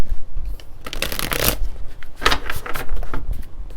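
Tarot cards being shuffled by hand in repeated riffling, papery bursts, close and fairly loud, with no talking over them.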